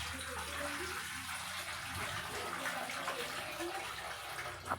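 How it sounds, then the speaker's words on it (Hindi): Water poured into a cooking pot while making kadhi in a home kitchen, a steady rushing gush throughout at moderate level. "अब थोड़ा सा पानी भी इसके अंदर में डालूँगी ताकि अच्छे से काफ़ी देर तक पकने के बाद अच्छी बने।"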